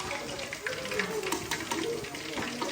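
Quail pieces deep-frying in hot oil, a steady, dense sizzling hiss with soft bubbling and occasional crackles throughout.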